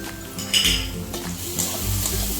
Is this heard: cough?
no